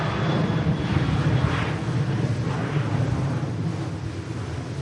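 A KLM jet rolls down the runway at Manchester Airport, its engines roaring in a steady, broad wash that holds strong and continuous throughout, with some wind buffeting the microphone.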